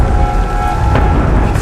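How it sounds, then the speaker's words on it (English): Steady rain pours down on an outdoor island challenge in the Maldives, a continuous dense wash of drops with a brief louder gust of spatter near the end, no voices. "here comes the rain again."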